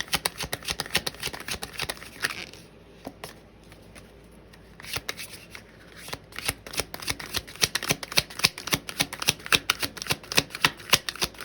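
Tarot cards are shuffled up close in rapid bursts of crisp riffling and slapping clicks. A brief quieter lull falls midway before the brisk shuffling resumes, with no talking.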